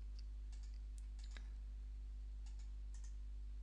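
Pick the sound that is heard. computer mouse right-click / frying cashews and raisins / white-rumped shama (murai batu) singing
computer mouse right-click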